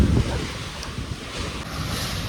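Strong cyclone wind at a home, a loud steady rushing roar buffeting the microphone, heaviest at the start and sustained throughout without voices.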